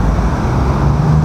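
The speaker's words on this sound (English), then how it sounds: "but traffic's starting to pick up now." Road traffic around four in the afternoon on a calm, windless day, a loud continuous rumble of passing cars close by with no talking.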